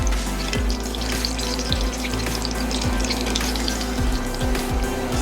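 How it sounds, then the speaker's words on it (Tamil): Apple fritters fry in oil in an iron pan, giving a steady bubbling sizzle up close with a few soft knocks and scrapes as pieces are turned, no voices. "இரும்பு பாத்திரத்தில் நம்ம வறுத்தா நல்லா ஒரே மாதிரி ஈவனாக நல்லா கலராக வரும்"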